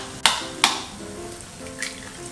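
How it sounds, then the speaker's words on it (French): Eggs fry with spoonfuls of ratatouille in a pan on a stove, giving a steady close sizzle with two sharp clinks of a utensil against the pan early on and a softer knock later. "Une poêle, j'allume le feu. 1, 2, 3 cuillères de ratatouille. Là je vais y ajouter 3 œufs."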